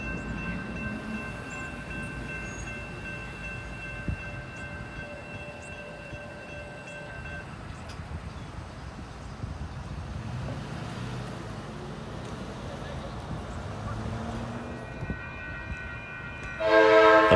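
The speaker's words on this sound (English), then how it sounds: "The following departure of Amtrak Capital Corridor train has made its way from Sacramento to San Jose." An Amtrak Capital Corridor passenger train on the Sacramento to San Jose run leaves Oakland Jack London Square along the street. Its low rumble and sustained horn-like tones come first, then a loud blast of the horn near the end.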